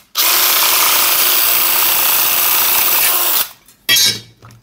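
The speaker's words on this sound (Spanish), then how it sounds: "Incluso con el taladro va mucho más rápido." A drill drives a DeWalt DWASHSRIR shear attachment cutting through sheet material, giving a loud, steady high-pitched grinding whir for about three seconds, then a short pause and a brief second burst.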